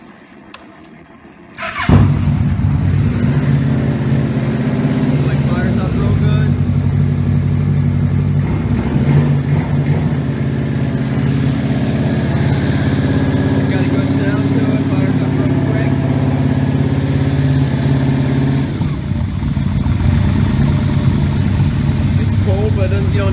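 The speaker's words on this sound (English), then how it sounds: "Let's fire the bike up, choke us out." A motorcycle engine started with the choke out, catching after a brief pause and settling into a loud, steady, close idle that holds for the rest of the clip, with someone talking over it.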